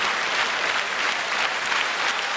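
Steady, dense applause from an audience after a cover performance of a song, a continuous wash of clapping at moderate volume.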